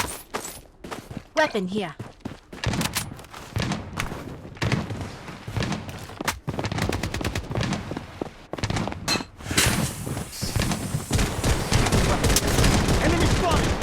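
Bursts of rapid gunfire and heavy thuds fill a hectic Blood Strike video game battle, shots crackling loud and near almost throughout, with short game voice callouts between the volleys.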